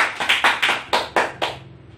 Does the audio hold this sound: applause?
yes